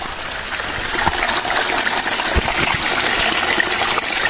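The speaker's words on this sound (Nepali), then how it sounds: "सानो खोलामा पुगेको छु" Small stream running in the countryside on a gloomy morning, a steady loud close rush and gurgle of water that goes on without a break and with no voices.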